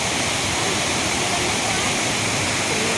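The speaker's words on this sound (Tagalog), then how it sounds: "nakikita nyo yung kabuuan ng Encanto Falls" Encanto Falls roars as a waterfall in a steady, dense, loud rush of falling water, with a voice faintly underneath.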